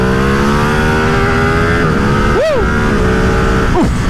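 A Ducati Streetfighter V2 motorcycle engine pulls hard while riding, a loud, close, steady drone with rising pitch and two quick upshift dips and revs, roaring continuously throughout.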